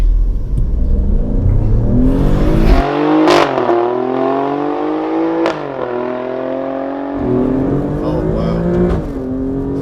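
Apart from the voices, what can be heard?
Alfa Romeo Stelvio Quadrifoglio accelerating, gear change crack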